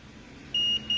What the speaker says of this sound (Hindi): आपको बीप साउंड दे रहा है